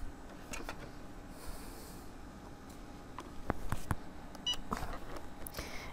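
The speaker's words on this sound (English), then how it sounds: "that little beep means it's ready" A heat press gives a short electronic ready beep amid quiet room noise and scattered small clicks and taps.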